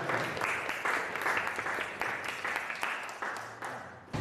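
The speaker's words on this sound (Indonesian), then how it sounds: "Oke, tepuk tangan." A classroom group claps together in sustained applause, a dense, moderately loud patter that continues for several seconds with slight swells and no talk over it.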